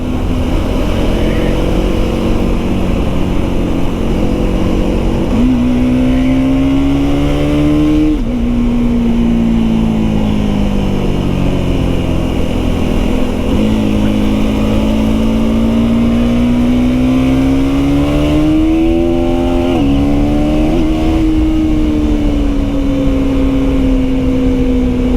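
A KTM Duke 390 Gen 3 motorcycle engine revs hard and close by, holding a loud steady drone whose pitch climbs, dips and climbs again toward the rev limiter for about 25 seconds.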